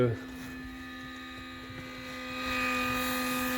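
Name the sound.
cheap power inverter cooling fan noise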